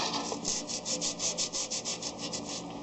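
Rhythmic scrubbing on a Ford 8.8 brake part soaked in brake cleaner, a quick run of close, even strokes, about a dozen, rasping back and forth with no voices.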